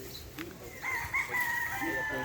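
A Sweater Boston gamefowl rooster crows at a game farm, one drawn-out call rising and holding, moderately near, with faint background murmurs and other birds.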